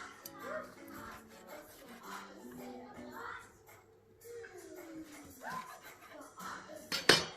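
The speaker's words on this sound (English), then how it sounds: "Now we will cut the meat into small pieces" Cooked, smoky lamb is cut into small pieces for a Newari choila snack, with soft knife scrapes and rubbing on a board alongside faint clinks, quiet and intermittent, with a voice speaking underneath.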